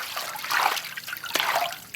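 Fruit being washed by hand in water for mixed fruit jam in a village kitchen, with close splashing, sloshing and trickling in uneven bursts.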